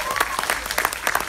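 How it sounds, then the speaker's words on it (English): A church congregation gives a short round of applause, the dense clapping filling the room evenly under a voice. "let's just give those men a round of applause"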